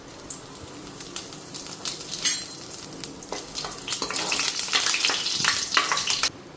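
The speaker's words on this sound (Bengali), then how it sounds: "এদিকে কড়াইতে তেল দিয়ে দিলাম, তেল গরম হয়ে গেছে গা, শুকনো লঙ্কা সম্বাদ দিই আর এদিকে গোটা জিরা ফোড়ন দিই।" Dried red chillies and whole cumin seeds hitting hot oil in a kadai, crackling and sizzling with rising intensity, mixed with scraping stirs and light clinks of a utensil against the pan.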